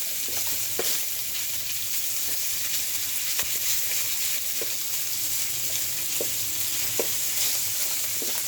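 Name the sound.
pork frying in oil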